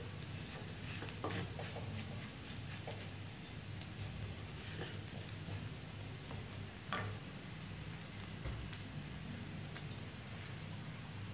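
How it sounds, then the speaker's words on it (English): Spicy tapioca anchovy fry cooks in a pan with a soft, steady sizzle, faint and close, broken by light clicks and taps of stirring. "Fry it for 1 minute."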